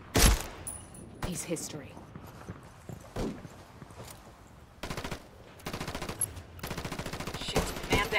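Gunfire in the tactical shooter Ghost Recon Wildlands, with bursts of automatic fire and scattered single shots of varying distance, mixed with someone speaking briefly over the combat.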